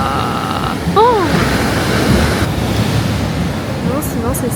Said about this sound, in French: Les vagues, elles sont immenses.